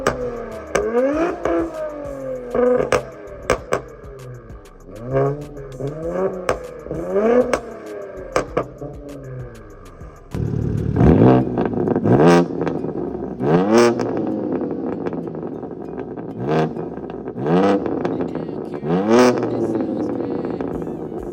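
Two cars rev in turn, a tuned Infiniti Q60 Red Sport and a straight-piped BMW G82 M4, each giving a series of sharp throttle blips that rise and fall, the second louder and rawer with crackling bursts, close by and with no talk.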